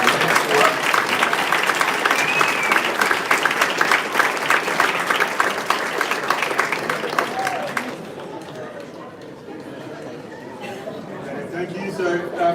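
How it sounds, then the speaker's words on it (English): Audience applause at a moot court competition, loud sustained clapping from a large room that stops abruptly, leaving murmuring chatter and faint crowd noise. "may I ask an applause for the original university?"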